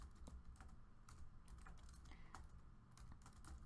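Quiet but steady typing on a computer keyboard, a continuous stream of light key clicks at an uneven pace over a faint background hum.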